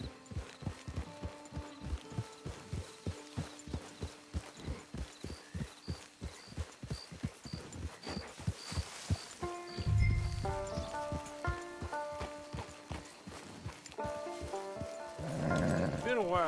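Horse hooves clip-clop at a steady walking rhythm in Red Dead Redemption 2, quiet and regular, followed by tonal musical notes and a short voice near the end.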